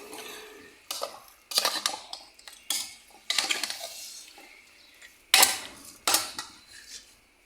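A utensil scrapes and clinks against a cooking pot while food is stirred, with about eight sharp, uneven strokes rising out of quieter rustling and no voices.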